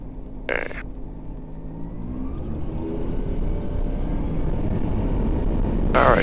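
Seaplane engine at full power on a takeoff run from a glassy lake, a steady droning roar that builds gradually in loudness over several seconds.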